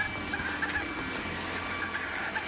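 Several chickens cluck steadily at a moderate distance, with scattered bird calls over a constant farmyard background and no speech.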